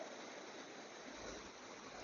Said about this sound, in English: the water's actually rather loud here